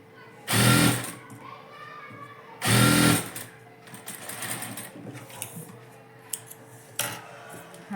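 Sewing machine stitching a blouse in two short loud bursts of rapid needle whirring, separated by quieter handling noises and faint clicks.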